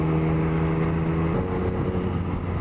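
A 2021 Yamaha MT-09 motorcycle on the road, its engine holding a steady, close droning hum with a low harmonic tone that dips slightly midway, continuous with no talk.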